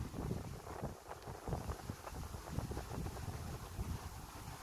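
Steady gusting wind buffets the microphone with low rumbling roars, continuous and fairly loud, with no voices.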